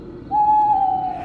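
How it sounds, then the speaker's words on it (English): A single owl hoot rings out clearly in a forest at night, one steady sustained call lasting about a second, loud and close over a faint background. "he felt startled to the hooting of an owl"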